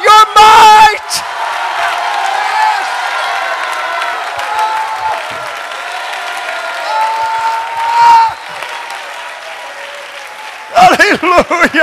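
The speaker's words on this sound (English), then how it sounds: "would you clap your hands? Would you shout with all of your might?" A church congregation claps and shouts in a large hall at a revival sermon. Loud sustained applause and cheering mix with whoops and yells, and amplified preaching voices come in at the start and end.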